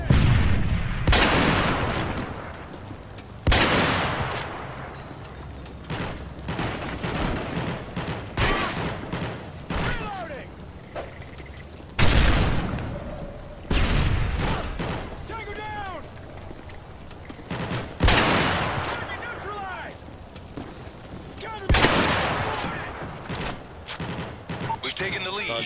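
Team deathmatch in Modern Warfare 3 on PC, with repeated loud gun bursts and booms recurring every few seconds over steady game noise while a man chats in between.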